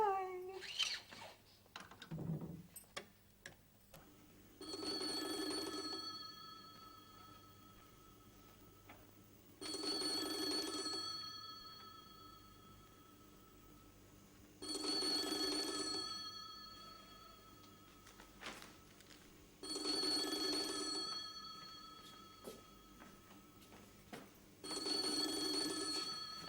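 A telephone ringing in a quiet room: five evenly spaced bursts of bright, metallic ringing, each about two seconds long with roughly five seconds of near-silence between, fairly close and alone.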